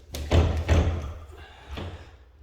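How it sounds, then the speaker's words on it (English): A house's front office door is tried and won't open, giving a few muffled thumps and rattles of the door against its frame, close by, with no talking. "The door doesn't want to open"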